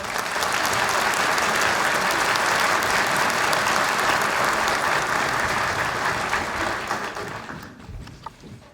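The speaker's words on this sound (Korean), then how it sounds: "박수 한번 보내주십시오." A hall audience applauds a ministry vice-minister at a Korean Justice Ministry address, dense sustained clapping that fills the room and then thins and fades near the end.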